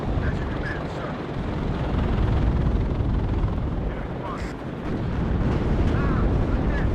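Apache helicopters arrive in the WARNO video game, a dense, steady rotor rumble with distant explosions and battle noise layered underneath, holding loud throughout.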